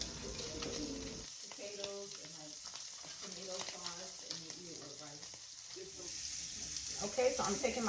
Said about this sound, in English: I'm going to cook them for approximately 2 minutes on each side because these are extra large shrimp